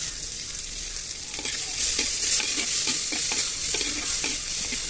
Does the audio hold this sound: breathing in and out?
no